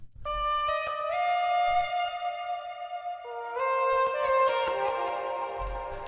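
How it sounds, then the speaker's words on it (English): Reversed guitar melody pitched up in a melodic piano rap beat, sustained notes swelling and shifting in steps with echo and chorus-like effects, steady and moderately loud, with low beat thumps at the start and end. "you hear these like reverse guitar sounds like this"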